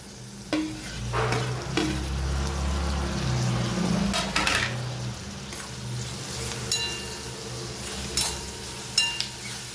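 Tomato drops into sliced capsicum frying in oil for spiced rice, a steady close sizzle broken by spatula scrapes and clinks against the pan, with no voices.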